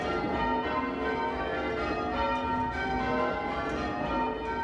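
Church bells of Longworth village ring in a steady, overlapping peal of sustained tones, loud and continuous throughout without any voices.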